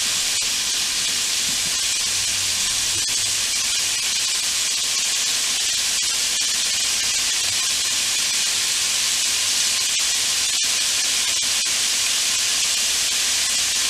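Continuous loud hissing spray from a spray bottle over a kitchen counter, holding steady the whole time, broad and airy like a pressurized mist, with no talking.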